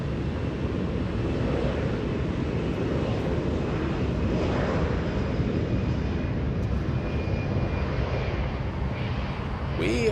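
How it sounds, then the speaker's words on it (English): A Turkish Airlines airliner taxiing at Los Angeles International Airport, heard as a steady, broad jet engine rumble with some wind buffeting on the microphone. "Turkish Airlines, this one, taxiing under the radar"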